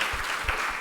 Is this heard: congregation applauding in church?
yes